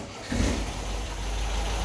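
A car engine idles steadily at close range after an idle adjustment, a low continuous rumble that rises slightly in level after a brief moment and then holds even.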